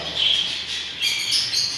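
Zebra finches in an aviary give a steady chorus of high, thin chirps and tweets, fairly loud and continuous, with no voices.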